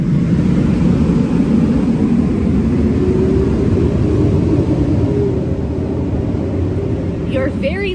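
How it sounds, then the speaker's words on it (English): A loud fire truck passing outside a house, heard as a heavy, steady engine rumble and road roar that swells and then slowly fades, with a brief higher tonal whine near the end. "It's a fire truck."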